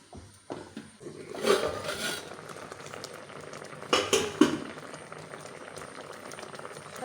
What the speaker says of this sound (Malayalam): നമുക്ക് മൂടി വെച്ച് വേവിക്കാം.